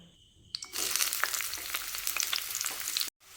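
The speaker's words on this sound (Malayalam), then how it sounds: "അല്പം നെയ്യ് ഒഴിച്ചിട്ട് അതെ ചുവന്നുള്ളിയും ഇഞ്ചിയും കൂടെ ഒന്ന് വഴറ്റിയെടുക്കണം" Shallots and ginger sauté in ghee for traditional Kerala karkidaka kanji, a dense, steady sizzle with scattered stirring clicks that starts after a brief clatter and stops abruptly near the end. No one speaks.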